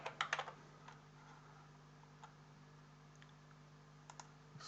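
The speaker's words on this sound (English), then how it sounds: "So I'll just type a few words in." A computer keyboard is typed on in short bursts of quick clicks, a cluster of taps at the start and a few scattered keystrokes later, faint and close over a quiet background hum.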